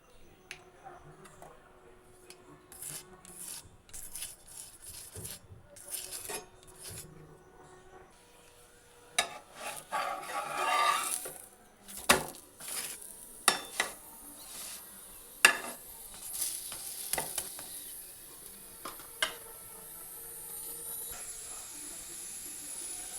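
Broccoli snack frying in a pan of white oil after being flipped, a soft steady hiss and sizzle with scattered crackles and ticks, louder bursts of spattering around the middle, close and without talk.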